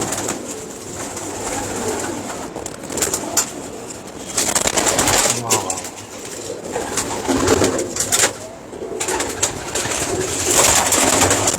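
Breeding pigeons coo repeatedly up close, soft throaty calls rising and falling, with occasional wing flutters and rustling between them.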